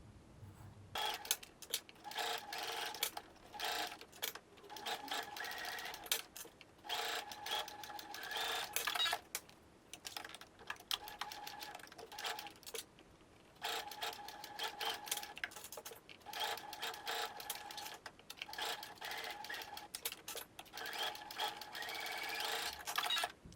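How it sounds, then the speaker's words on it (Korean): Sewing machine running in rapid bursts while stitching fabric for a box-style zipper pouch, a fast mechanical whir broken by short pauses between seams, with no talking. "이제 약 1cm 간격으로 쭉 재봉해 줄게요."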